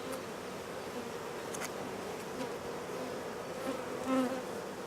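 Honeybees buzzing steadily around an open hive during an inspection of drone brood, a dense continuous hum close by with no voices.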